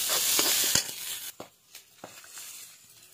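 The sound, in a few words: frying onion and green peas in a pan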